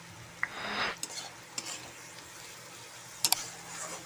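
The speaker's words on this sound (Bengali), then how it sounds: "মশলাটাকে কষিয়ে নেব ভালো করে।" Masala spice paste with salt fries in a pan with a soft continuous sizzle. A utensil gives a few scraping strokes and sharp taps against the pan, close but quiet, with no one talking.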